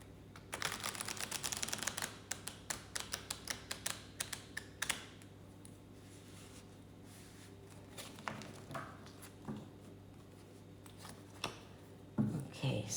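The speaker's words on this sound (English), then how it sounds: "shuffle the cards and clear them once again" Tarot cards shuffled repeatedly, a dense run of quick riffling flutters and soft slaps that comes and goes in bursts, close and moderately loud, with a steady low hum behind.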